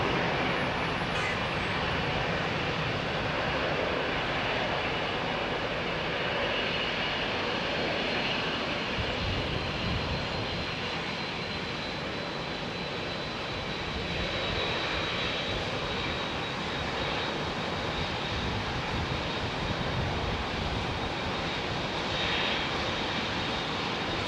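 A Virgin jet airliner taking off at London Heathrow Airport gives a steady, loud engine roar that holds for the whole stretch at middle distance, with no speech over it.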